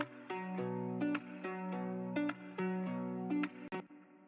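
Guitar in an afrobeat production processed with Brigade Chorus, a multi-band compressor and reverb, playing a bright, rhythmic plucked pattern of repeating notes with a short chorused shimmer and smooth tails.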